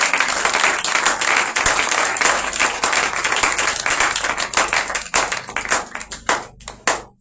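A church congregation bursts into loud, sustained clapping and applause to acclaim the Lord at a prophetic conference, dense rapid hand claps filling the room before thinning into a few scattered claps at the end.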